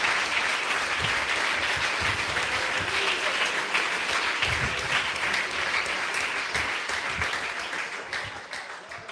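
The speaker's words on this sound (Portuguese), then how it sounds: "Dê uma salva de palmas para Jesus." Sustained applause from a church congregation during a missions service, dense steady clapping filling the whole stretch and easing slightly toward the end, with no talk over it.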